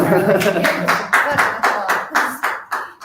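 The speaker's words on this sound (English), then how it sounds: "Clap it up." Rhythmic audience clapping, about a dozen loud, evenly spaced claps in unison, with a voice talking over the start.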